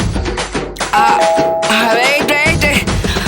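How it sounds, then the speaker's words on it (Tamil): A household calling bell rings at the front door: loud, sustained electronic chime tones that hold and shift pitch for a couple of seconds over a busy background of other sound. "அதுக்குள்ள யாராவது வந்து காலிங் பெல் அடிச்சிடுறாங்க."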